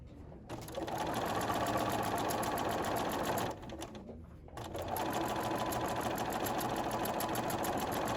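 A sewing machine stitches pieced nine-patch quilt block units fed straight through, running in close, loud bursts with a brief stop near the start and another short pause midway before resuming.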